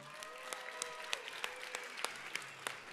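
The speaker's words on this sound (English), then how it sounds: "Give a warm applause to 30393, the Lumens Cube" Steady applause fills a robotics qualifier competition hall for a team award, many hands clapping together with sharp claps standing out, fairly distant and even throughout.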